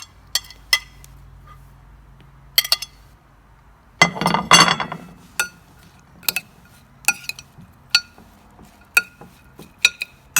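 A spoon clinking against a pot while biryani ingredients are stirred together, a series of sharp metallic taps spaced irregularly, with a brief burst of scraping and mixing partway through, no talking.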